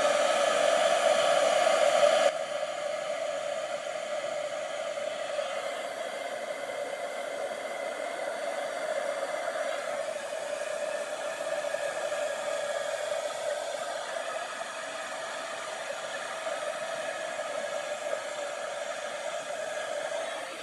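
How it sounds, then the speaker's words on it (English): Heat gun blowing continuously while melting embossing powder on a handmade Halloween card, a steady close whooshing whir with a slight drop in tone after the first couple of seconds, with no voices. "I've used my heat gun a couple times already this morning, so it's already warm, so it didn't take long to heat up the spider"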